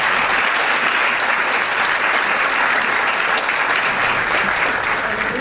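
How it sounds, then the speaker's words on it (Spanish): Warm applause from an audience at a lecture fills the whole stretch, dense, steady clapping heard up close with no voices over it. "podremos en parte retribuir con un caluroso aplauso"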